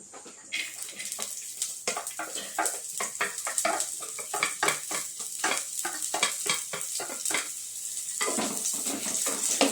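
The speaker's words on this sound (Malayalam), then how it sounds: "ആദ്യം ഉള്ളി നമ്മൾ ചേർക്കുകയാണ്." Onions frying in melted ghee for spinach rice, bright spitting sizzle with rapid irregular crackles and stirring scrapes, close and steady, growing slightly louder over time.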